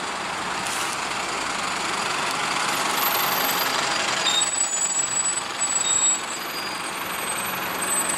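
A Stagecoach bus pulling into Stockport bus station sends a loud, steady diesel rumble through the whole stretch, with hissing air and faint high whines on top, no voices.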